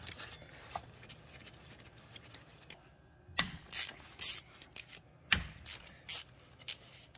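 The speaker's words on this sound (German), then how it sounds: "Dazu nehmen wir uns eine 9er Stecknuss und lösen uns die." A 9 mm socket wrench ratchets to loosen the three bolts holding the release bearing on the gearbox of a VW Golf 4, Audi A3 8L, Skoda Octavia or Seat Leon with suspected gearbox damage. Several short, close bursts of crisp clicking come with pauses between.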